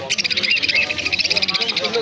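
Cockatiels, including some with broken tails, kept at home, giving a quick series of shrill, rapidly repeated chirping calls, loud and close, with no talking.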